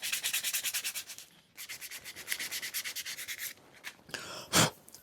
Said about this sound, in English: can now refine the shape with some sandpaper, which is really easy to do with balsa